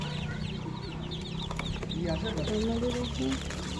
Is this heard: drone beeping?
no